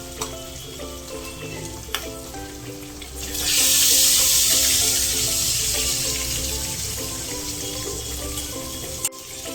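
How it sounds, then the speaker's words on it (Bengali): Pabda fish frying in hot oil for a Bengali shorshe pabda dish, with a steady loud sizzle that swells into heavier spattering midway, over background music, close and continuous. "প্রচুর ফাটে পাবদা মাছ।"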